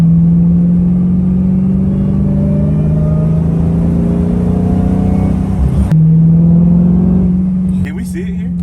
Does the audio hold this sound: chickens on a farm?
no